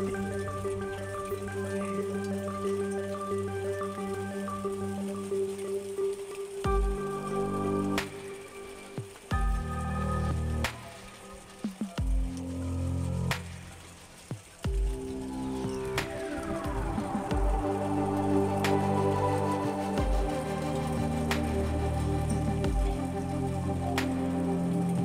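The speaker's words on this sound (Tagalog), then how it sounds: "Ayan po, yelo po. Umulan ng yelo." Hail falls in a dense, irregular patter of hard taps and drips striking a surface, with louder clusters of impacts at intervals across the whole stretch.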